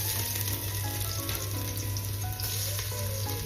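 Garlic sautéing in a hot pan, a loud, close, continuous sizzle and crackle with spattering pops throughout, with a low steady hum underneath and no talking.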